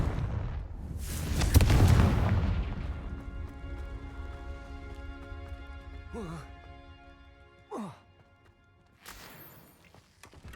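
A Confringo spell explosion in Hogwarts Legacy, a heavy booming blast that swells and rumbles before fading into a sustained tonal ring, followed by smaller sharp impacts.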